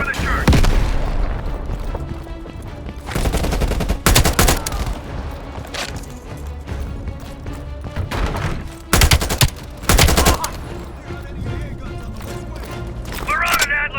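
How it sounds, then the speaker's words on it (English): Loud C4 charge detonations in Call of Duty burst out as several sharp, booming blasts amid continuous gunfire and combat noise, with voices talking over the battle. "Stand back. C4 is cooking."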